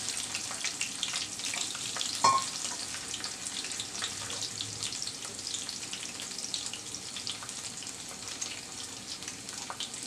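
Cinnamon sticks, bay leaves and thin-sliced garlic fry in hot oil for a raw mango pickle, giving a steady, close sizzle that hisses evenly throughout with a brief clink partway in.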